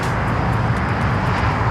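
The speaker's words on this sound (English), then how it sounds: "KLM, the Dreamliner," KLM Boeing 787 Dreamliner arriving on Amsterdam flight 603 at LAX, a steady broadband jet roar held at one level throughout, moderately loud and close, with no voices.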